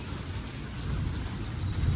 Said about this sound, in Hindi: मौसम चेक करें और ये जो तूफ़ानी आवाज़ है ये चेक करें